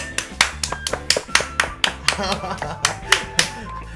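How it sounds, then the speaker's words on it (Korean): A few people clapping along in a Minecraft Pixelmon gaming session, a rhythmic series of sharp, close hand claps at a steady pace, with voices faintly behind them. "박수!"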